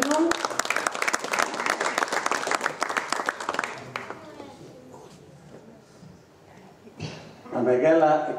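An audience at a memorial event on Syros, Greece breaks into dense, brisk applause for several seconds. The clapping then fades and a voice begins speaking.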